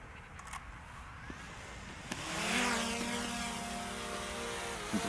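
A DJI Mini 3 Pro camera drone's motors spin up midway and settle into a steady high-pitched whirring hum as it lifts off nearby, climbing automatically to 1.2 metres.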